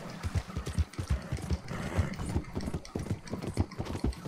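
A horse's hooves clip-clop at a steady trotting rhythm in Red Dead Redemption II, close and even, with no talk over them.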